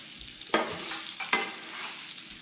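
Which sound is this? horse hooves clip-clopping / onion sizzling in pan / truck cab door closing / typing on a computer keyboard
onion sizzling in pan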